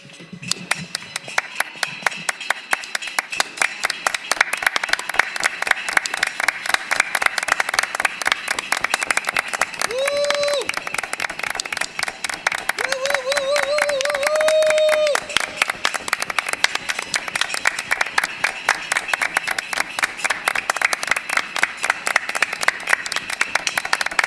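A crowd claps steadily in rhythmic applause for pandemic heroes, a dense, continuous patter of hands sustained throughout, with a few brief tonal sounds rising over it midway.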